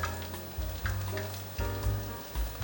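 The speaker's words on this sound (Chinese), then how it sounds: "再继续让它炸" Burdock and king oyster mushroom pieces fry in hot oil with a steady close sizzle, broken by a few louder bubbling surges and light stirring.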